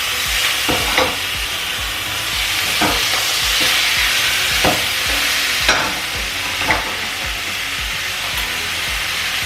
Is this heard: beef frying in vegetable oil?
yes